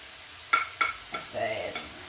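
Carrots and garlic in a pan: a few sharp clicks from a utensil come first, then a short burst of sizzling and frying, close and fairly quiet, with no talking.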